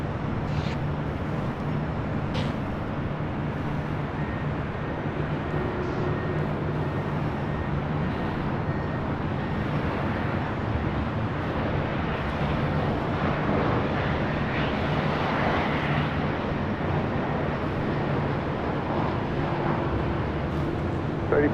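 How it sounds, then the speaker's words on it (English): A Southwest Boeing 737 airliner arriving at LAX produces a steady, broad jet roar that swells gradually, heard from a distance over constant airport background noise. "Our next arrival is the Southwest 737."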